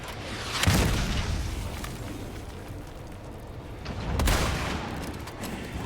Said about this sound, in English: That's a rocket launcher, I think.